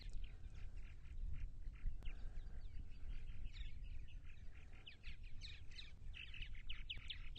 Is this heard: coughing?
no